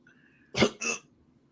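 One person coughs twice in quick succession, close and fairly sharp, then quiet.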